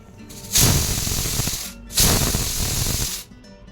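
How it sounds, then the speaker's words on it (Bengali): Pressure cooker with soaked peas, water, salt and turmeric, letting off two loud hissing steam whistles in a row, each lasting over a second with a short gap between. "প্রেসারে ঘুগনিটার মটরটা দিয়ে জল দিয়ে নুন আর হলুদ দিয়ে আমি বেশ কয়েকটা সিটি মেরে নিচ্ছি"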